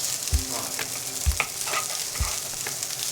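Fried rice with fish roe and mayo fries in a pan, a constant sizzle punctuated by three or four thudding spatula strokes as clumps are cut apart and broken up, near and without talk.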